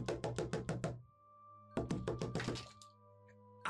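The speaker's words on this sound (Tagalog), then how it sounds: "Biglang may malakas na katok sa pinto." Loud knocking on a door, two close bursts of rapid, evenly spaced heavy knocks, five or six in each, separated by a short pause, with no talk between them.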